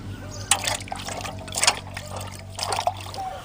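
Five large carrots are rinsed clean in water, with splashing and trickling in a few bursts as they are rubbed and turned, close by and moderately loud over a low background hum.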